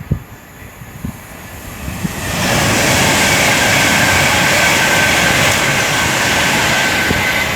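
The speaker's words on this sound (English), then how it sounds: "Pendolino, London to Manchester." A Pendolino train from London to Manchester passes Tamworth station on the West Coast Main Line. A few faint knocks come first, then a loud, sustained roaring rush of the passing train that holds steady to the end.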